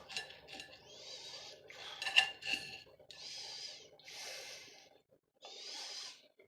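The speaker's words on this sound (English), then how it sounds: "you gotta cut them in half." A knife slices Brussels sprouts in half on a cutting board, with a series of quiet rasping cuts and soft knocks repeating in an uneven rhythm and no talking.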